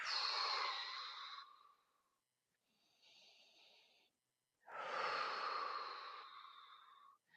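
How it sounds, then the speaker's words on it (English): Deep exhale while seated on a firm chair during a full-body exercise session, two long close breaths out through the mouth with a softer airy breath between them, quiet and unhurried. "And then exhale, really sink into it."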